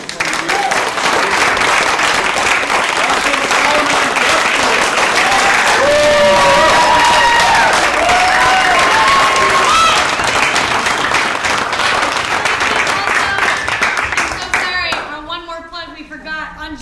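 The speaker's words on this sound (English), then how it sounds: "can we have one more round of applause for our Ready" Sustained, loud applause from an audience after a spring play performance, dense clapping mixed with cheers and crowd voices throughout, tapering off near the end.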